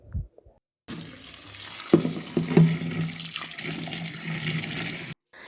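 Tap water runs steadily into a kitchen sink as freshly cut cauliflower florets are rinsed, a continuous splashing flow with a few brief clatters partway through, stopping abruptly after about four seconds.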